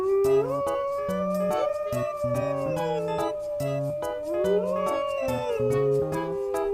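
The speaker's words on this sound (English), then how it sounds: "Wolf. Wolves live and hunt together in packs." A wolf howls in long, wavering, rising and falling tones, loud and close, with other voices joining in a layered chorus.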